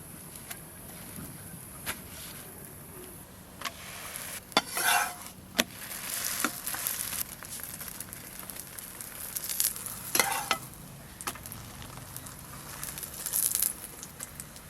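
Yogurt parathas frying in a pan, with a steady soft sizzle and scattered sharp clicks and scrapes of handling, close and alone without talk.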